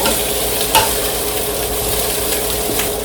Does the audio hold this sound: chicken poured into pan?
yes